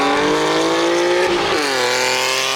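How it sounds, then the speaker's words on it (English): BMW S58 engine heard through the exhaust of a car, a loud, raspy, close-up revving drone that climbs, dips briefly and settles again, with no voices. "I'll put up a clip of a S58 that I think sounds bad"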